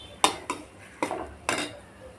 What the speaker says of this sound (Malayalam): അതിൻ്റെ പച്ചമണം പോകാൻ വേണ്ടിയിട്ട് ഒന്ന് ഇളക്കി കൊടുക്കാം.